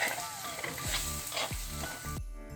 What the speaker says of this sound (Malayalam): ഇനി ഇതും കൂടി ഇട്ട് നന്നായിട്ട് ഇതൊന്ന് വഴറ്റിയെടുക്കാം.